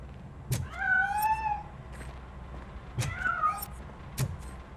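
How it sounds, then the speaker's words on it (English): A cat meows twice in the video game Robocop: Rogue City, each a drawn-out wavering call, with sharp clicks marking the start of each and a low rumble underneath. "That cat must be hiding inside."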